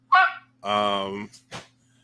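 A pet dog at home gives a short yip, a longer drawn-out whining bark and a brief final bark, close and fairly loud, with no talk over it.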